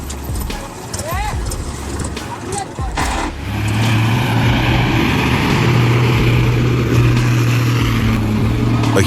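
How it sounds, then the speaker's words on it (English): A huge truck's engine roars and rumbles loud and close, holding a steady low drone for most of the span, with voices talking over the start. "A huge truck roared"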